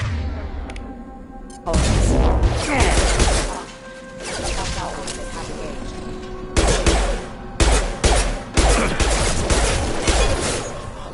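Gunfire in Mass Effect 2: loud, close volleys of shots and impacts that start abruptly, then a sustained barrage and a run of sharp separate bursts toward the end.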